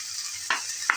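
Ginger and garlic paste frying in a pan for a pickle, with a constant close sizzle and two brief scraping strokes of stirring.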